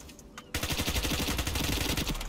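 Rapid automatic PP90M1 submachine gun fire in the video game Ironsight: a dense, loud burst of quick shots starts abruptly after a brief quiet moment and rattles on continuously, with no speech over it.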